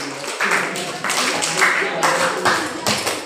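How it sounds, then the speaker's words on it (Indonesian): Classroom students clap for a classmate who just answered during a teaching practice lesson, giving a short burst of scattered, uneven claps with some voices mixed in. "mari sekali lagi berikan tepuk tangan untuk kawan kita yang sudah menjawab tadi"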